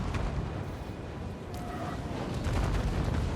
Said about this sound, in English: So I'm going to let my fire rain rockets continue to bring the heat.